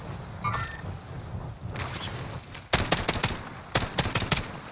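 Bursts of automatic gunfire in a Call of Duty Warzone match, several sharp loud volleys in quick succession after a quieter stretch of game noise.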